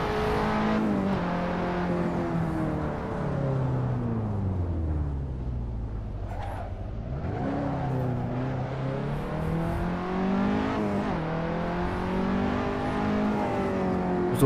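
A KTM X-Bow R races the Nürburgring Sprint circuit in Assetto Corsa, its engine note climbing and falling through repeated revs and gear changes, a dipping whine that sweeps low then rises again steadily and loud.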